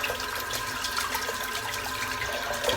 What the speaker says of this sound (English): Just rinsing my brush out.